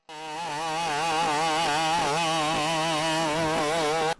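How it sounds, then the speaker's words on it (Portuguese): The small combustion engine of a Boston Dynamics BigDog quadruped robot drones loudly and steadily, a buzzy, rasping motor note that wavers rhythmically in pitch for about four seconds before cutting off abruptly. "o Big Dog foi engavetado, porque ele utilizava um motor a combustão que foi considerado muito barulhento para ser utilizado em combate"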